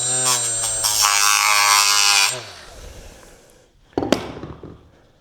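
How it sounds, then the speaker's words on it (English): Milwaukee cutoff wheel cutting into part of a DR grader box, a loud high whine for about two seconds that stops abruptly, followed by quiet rustling and a short sharp clank. "My dad's got this Milwaukee cutoff little wheel. I'm gonna try that out."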